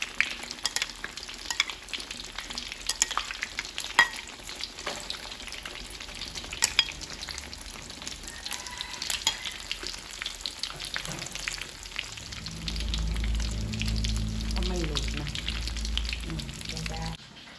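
Boiled eggs frying in hot oil, a steady crackling sizzle with small pops throughout, joined near the end by a low rumbling hum from the stove area; no one speaks.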